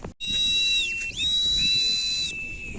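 A homemade whistle carved from willow bark is blown in one long, shrill, steady note, with a brief wavering dip partway through, close and loud, and a breathy hiss underneath.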